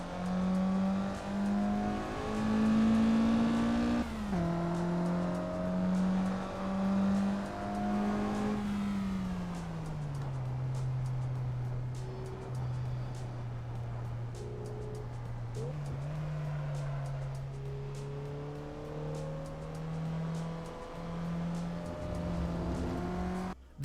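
A car engine in the Assetto Corsa racing game drones steadily and shifts pitch through gear changes, a continuous mechanical hum with no talking.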